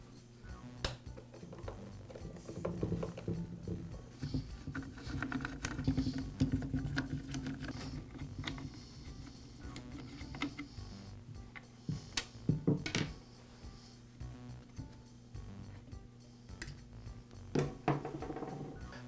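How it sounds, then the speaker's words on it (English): Side cover coming off a Poulan chainsaw during a piston kit repair, heard as soft plastic clicks, scrapes and light metallic taps close by, with a steady low hum underneath and no talking. "And now I can remove the side cover."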